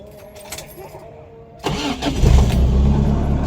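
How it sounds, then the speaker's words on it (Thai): A 4-speed Datsun Sunny 120Y car engine cranks briefly after a quiet start, catches on the first try, then settles into a loud, rough idle close by. "เดี๋ยวสตาร์ทเครื่องให้ดูนะครับ"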